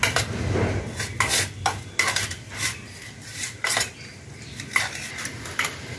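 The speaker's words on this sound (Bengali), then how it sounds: "বিট লবণ আমি স্বাদ মতো দিয়ে দিলাম আর এগুলো চামচ দিয়ে একটু ভালোভাবে মিক্স করে নেব।" A spoon mixes curd with black salt in a bowl, making repeated scraping and clinking strokes against the dish in an uneven rhythm, close and fairly loud, with no voices.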